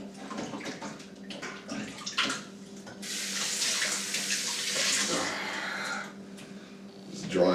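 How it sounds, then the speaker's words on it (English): Water runs from a kitchen tap as hands are washed after handling raw poultry, a steady splashing hiss that swells in the middle, with a voice speaking faintly at times. "Wash my hands."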